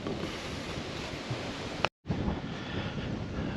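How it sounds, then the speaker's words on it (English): Outdoors on a walk in the Norfolk Broads, wind buffets the microphone in a steady, loud rumble, broken by a brief cut-out of silence partway through. "now I can feel the wind"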